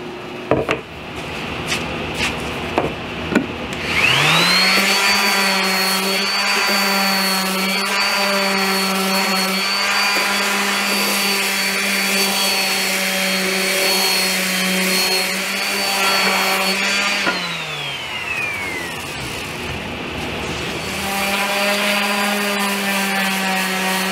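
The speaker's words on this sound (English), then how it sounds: "this is pretty much ready for a 220 sanding" A power sander runs on a wooden table leg with 220 grit paper for a DIY kitchen table: the motor whines up to speed after a few seconds, holds a steady, close humming drone for about thirteen seconds, then winds down, with no talking.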